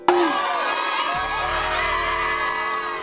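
A courtroom crowd erupts in loud, sustained cheering and whooping right after a verdict, a dense wall of many voices with rising shouts that carries through to the end.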